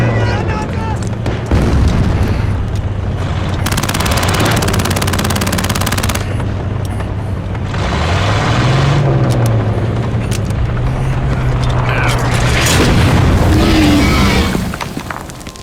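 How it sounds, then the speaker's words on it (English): Machine-gun rounds and booming explosions fill a war-movie battle scene, rattling bursts and heavy blasts overlapping with engine rumble and a musical drone throughout, loud and dense. "Fire a few rounds at the pedestrians."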